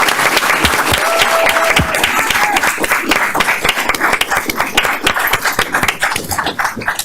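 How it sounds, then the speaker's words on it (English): Dense, loud applause from an audience at a school district board meeting, greeting orchestra students, sustained and steady for several seconds before thinning toward the end. "Let's give them a round of applause."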